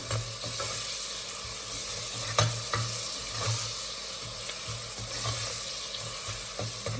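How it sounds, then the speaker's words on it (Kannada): Ingredients for methi (fenugreek) rice sizzle and fry in a pan while a utensil stirs them, with steady close frying hiss and repeated scraping strokes throughout, no talking. "ಫ್ರೈ ಮಾಡ್ಕೊಳ್ಳೋಣ."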